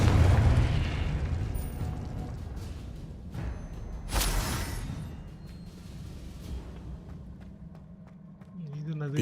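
A Confringo explosion spell cast in Hogwarts Legacy on PC, a booming blast that swells and fades, with another sharp burst a few seconds later over a low rumbling game background, and a voice speaking faintly beneath.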